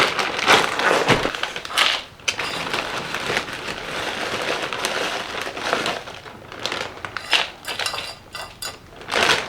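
Potting mix poured into a plant pot lined with small mesh rounds during a pilea repot, close gritty crunching and rustling in uneven bursts with faint clinks from the pot.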